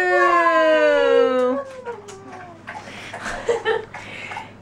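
A puppy lets out a long rising howl up close that trails off after about a second and a half, followed by softer snuffling, whimpers and light household noise.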